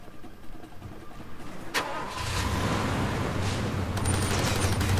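A car engine cranks and catches in Far Cry 2, a brief starter whine followed by a steady mid-pitched idle that rumbles on at a constant loud level.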